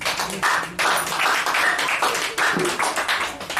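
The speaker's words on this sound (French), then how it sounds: "Acclame pour Jésus" A church congregation claps for Jesus in bursts of hand claps, uneven and lively, rising and falling across several seconds at moderate volume.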